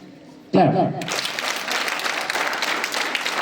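Students at a school assembly break into clapping right after a spoken command, a burst of many hands that holds steady and fairly loud to the end.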